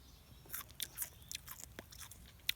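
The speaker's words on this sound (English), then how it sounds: "I'm gonna have a bite for myself." Crisp close biting and chewing of a tender wild plant stem with a mild celery-like texture, picked while spring foraging: a series of sharp crunchy bites and wet chews, fairly quiet and alone without talk.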